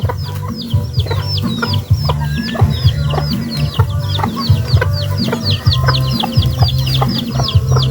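Backyard pet chickens cluck loudly and continuously up close, their repeated calls overlapping in a busy flock chorus with occasional sharper squawks.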